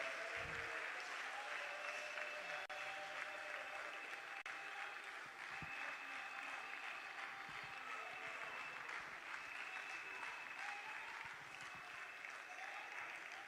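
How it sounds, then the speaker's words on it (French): Steady applause fills an official ceremony hall in Kinshasa launching a national scholarship programme, the crowd clapping continuously at an even level without any break, with a faint voice surfacing briefly. "Excellencia sous vos applaudissements,"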